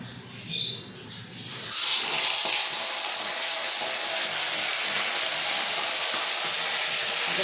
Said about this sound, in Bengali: প্রথমে আমি মাথাগুলোকে ভালো করে ভেজে নেব